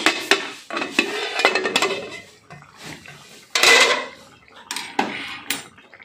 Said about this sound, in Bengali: এবার আমি ঢাকনাটা খুলে নিচ্ছি।